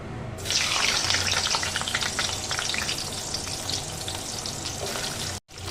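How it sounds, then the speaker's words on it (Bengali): Cauliflower pieces, seasoned with salt and turmeric, sizzle loudly in a pan of hot oil for a Bengali coriander-cauliflower dish; a steady bright crackle with scattered pops runs throughout and cuts out briefly near the end. "এটা এখন ফুলকপিটাকে সাঁতলে নিচ্ছি"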